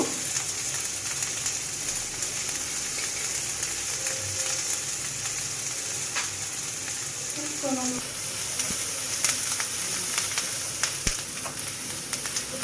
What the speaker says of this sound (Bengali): কম জালে পেঁয়াজটা আস্তে আস্তে করে বাদামি কালার করে নিতে হবে।